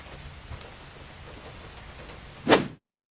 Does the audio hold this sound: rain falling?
yes